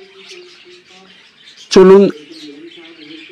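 Finches twitter softly in the background at a bird farm in Barishal that keeps snow white zebra finches and Bengalese finches, and someone speaks one short word over the chirping.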